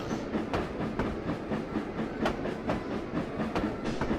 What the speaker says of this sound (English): this is a 13-mile-an-hour train. It's like an old rickety track line.